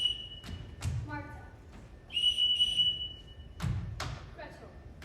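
Whistle blown to summon the children in a stage performance of The Sound of Music, a long steady pitched blast followed by shorter tones, with thuds and brief voices around it.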